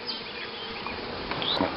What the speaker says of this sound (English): Them bees ain't doing nothing. They done settle down right there.